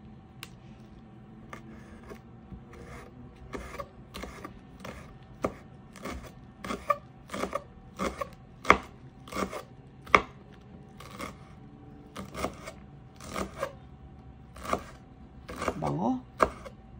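A knife slices through rolled basil leaves for a cheese stick on a cutting board, a steady series of crisp chopping taps, close and fairly quiet, with someone talking over them.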